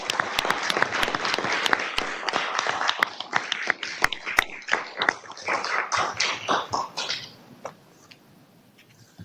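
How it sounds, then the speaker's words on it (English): A round of applause at a council meeting, dense crowd clapping that rises briskly, thins into scattered claps and fades out, with no voices over it. "One more round of applause."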